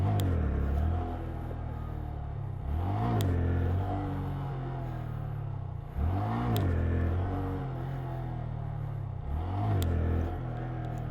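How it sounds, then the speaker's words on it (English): A Honda Grom motorcycle revs in four repeated bursts during wheelie attempts, each throttle blip swelling and falling back to a lower engine hum between, heard from a moderate distance. "I think I'm trying to wheelie at too high of a speed, so it's not giving me enough each time I rev."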